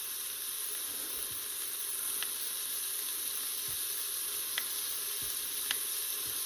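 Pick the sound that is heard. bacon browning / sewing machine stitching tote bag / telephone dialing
bacon browning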